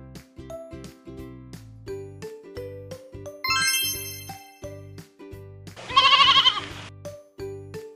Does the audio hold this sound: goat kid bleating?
yes